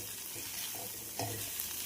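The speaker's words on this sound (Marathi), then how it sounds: "छान असे मसाले मी भेंडीमध्ये परतून घेते" Okra hisses faintly in a pan as a spatula stirs it, with a couple of soft scrapes over the steady sizzle.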